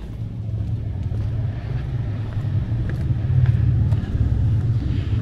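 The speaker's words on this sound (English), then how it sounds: "Oh, motorbikes are back." Motorbikes rumble past near a 12th-century medieval castle village, a steady low engine drone that swells slightly midway and holds throughout at moderate distance.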